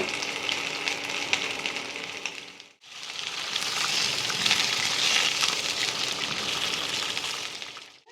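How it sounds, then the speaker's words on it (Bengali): Hollowed pointed gourd frying lightly in oil in a pan, a dense, even crackling sizzle that breaks off briefly, then resumes just as steady. "পটলটাকে হালকা করে ভেজে নিতে হবে"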